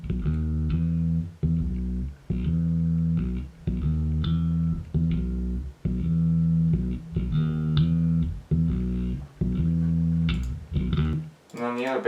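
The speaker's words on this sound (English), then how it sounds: "because the bass on its own sounds like this." Single bass guitar track from a video game guitar cover, playing alone with a steady repeated riff of chugging low notes in even phrases, close and dry, ending in a brief warble.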